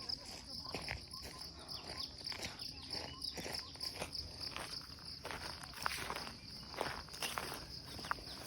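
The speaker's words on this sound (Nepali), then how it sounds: "भिडियो गर्दै हिँड्दैछु नि" Footsteps crunch in a steady walking rhythm outdoors, moderately close, over a constant background of chirping crickets.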